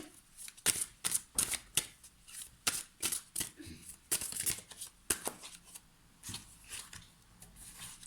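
Oracle cards are handled and shuffled close up, producing quick papery riffles, slides and flicks in an irregular rhythm, fairly faint and with no talk.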